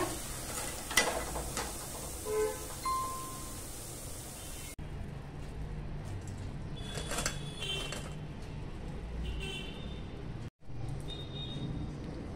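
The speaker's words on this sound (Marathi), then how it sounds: "भजी ना दोन्ही बाजूने अशी कुरकुरीत होईपर्यंत तळून घेऊया।" Crispy masoor dal onion bhaji deep frying in hot oil, a steady close hiss of bubbling with occasional stirring scrapes, briefly cut off near the end before resuming.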